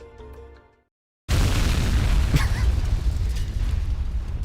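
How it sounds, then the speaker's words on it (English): A video game explosion erupts as a sudden loud blast after a brief silence, then rolls on as a sustained, heavy rumble with crackling debris. "Bam! Explosion!"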